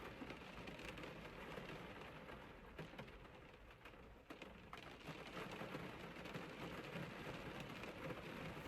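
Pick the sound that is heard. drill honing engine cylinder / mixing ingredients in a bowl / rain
rain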